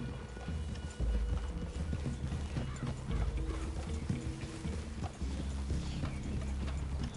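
Horse hooves clip-clop steadily in Red Dead Redemption 2 as riders approach a clearing near a cabin, with rattling tack and a dense layer of game sound around them.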